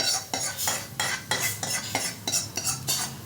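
Tempering mixture being stirred into nylon poha chivda, a spoon scraping and clinking against the dish in a steady, repeated rhythm of about eight close strokes, with no voices.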